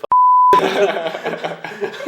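A single sharp electronic beep cuts in, followed by a person talking continuously.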